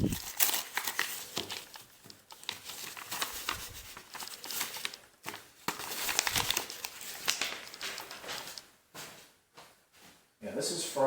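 A paper envelope from a WW2 militaria unboxing is handled and emptied, giving repeated close crinkles and rustles in uneven bursts with short pauses, under a person talking.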